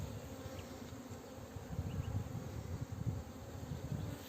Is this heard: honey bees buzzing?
yes